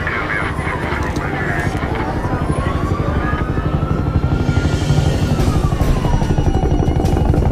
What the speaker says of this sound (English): There's a chopper standing by right now to take you to New York.